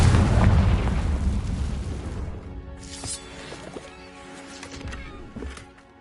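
A Confringo spell explosion in the video game Hogwarts Legacy erupts with a loud, deep boom that fades over a couple of seconds into crackling debris and smaller bursts, followed by a ringing magical tail.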